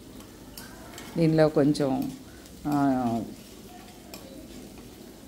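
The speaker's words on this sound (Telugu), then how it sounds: "సన్నగా వెల్లుల్లిపాయలు కట్ చేసి అందులో నూనెలో వేసేసాను" Thinly sliced garlic and red chilli fry in oil for hotel-style Szechuan chicken, giving a soft, steady sizzle in the background while someone speaks a few short phrases over it.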